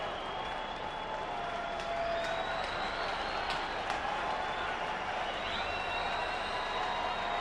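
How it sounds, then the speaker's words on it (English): A baseball stadium crowd at a Houston Astros home game against the St. Louis Cardinals cheers on the Astros setup man, a faint, distant, steady roar with scattered applause. "Crowd starting to pump up the setup man for the Houston Astros."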